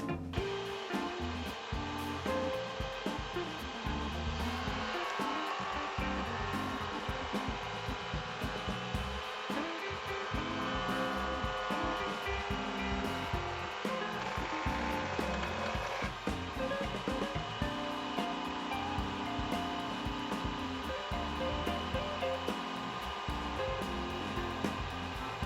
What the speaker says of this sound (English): the next stage is to use the jointer and thicknesser to bring them down to usable pieces of wood